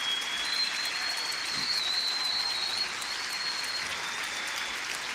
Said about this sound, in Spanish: Estos son aplausos.